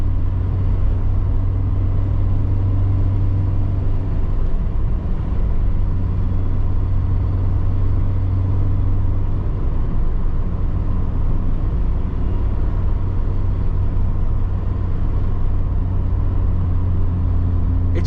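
A 1988 Volkswagen Scirocco 16v engine drones steadily from inside the car while driving, a constant low rumble with road noise throughout and no talking.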